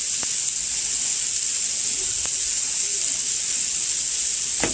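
Scrambled eggs for breakfast burritos sizzle and hiss steadily in a hot pan, loud and close, with a few soft scrapes and taps of stirring breaking through the constant frying.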